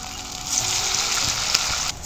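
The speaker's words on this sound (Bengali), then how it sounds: "এবার মোচার বড়াগুলো ভেজে নেব।" Banana flower fritters fry in hot oil, giving a close, continuous bright sizzle with small pops, steady throughout and with no talking.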